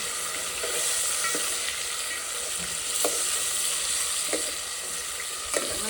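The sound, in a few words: mutton with turmeric and salt frying in oil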